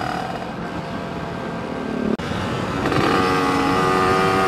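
A tuned motorcycle engine revs lightly after carburetor adjustment, a steady close idle that swells slightly with a brief throttle blip, loud and continuous with no talk.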